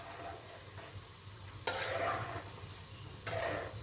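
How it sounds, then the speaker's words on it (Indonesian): Chicken karaage par-frying in hot oil, a steady sizzle throughout with two louder bursts of crackling as pieces are stirred or added, close and continuous with no voices. "kita sekarang sekali goreng setengah matang"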